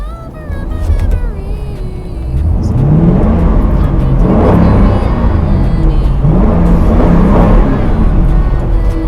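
A 2007 Ford Mustang cruising on the road, a steady low engine drone and tire roar that swells slightly as it accelerates, close and continuous with no talk.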